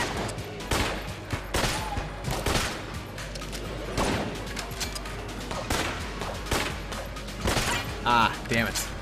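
Rapid bursts of gunfire from a weapon in the video game Enter the Gungeon, repeated shots and mechanical clicks over a dense game soundtrack, with a voice briefly talking at times.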